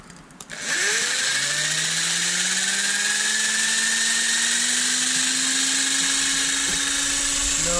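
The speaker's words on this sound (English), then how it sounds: "Electric drill, wire brush." An electric drill spins a wire brush, spooling up sharply and then holding a steady high whine with rising pitch for several seconds, loud and close, with no talking.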